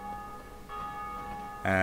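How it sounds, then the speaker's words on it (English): A chapel bell in Dark Souls rings out suddenly near the end, loud and resonant with a bright sustained tone over a quieter game ambience. "someone else has just rang the bells. Or rang the chapel bell"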